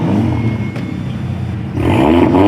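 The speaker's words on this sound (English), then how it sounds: "they are going to do a parade lap now" Cars at a time attack championship final roll past on a parade lap, their engines a loud, close roar that swells into revving near the end, with no talk over it.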